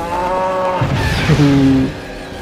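A cartoonish cow moos once in the kart racing game Crash Tag Team Racing, a loud drawn-out call rising over steady game music with no talk.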